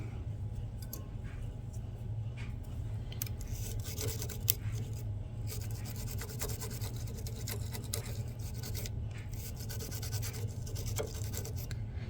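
A tiny brush scrubs between the tension discs of a Janome MB7 embroidery machine during cleaning, giving a soft, steady close-up rubbing and scratching with a faint low hum underneath.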